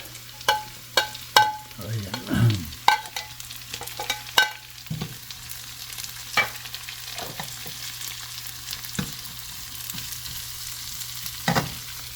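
Garlic and onion sautéing in a pan, a faint steady sizzle broken by scattered clinks and scraping stirs from a utensil, close by with no talking.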